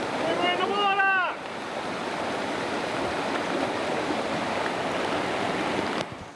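Rushing floodwaters roar steadily in the Gold Coast hinterland during a swiftwater rescue of a man trapped on his car roof, a dense continuous wash, with a voice shouting briefly over it at the start.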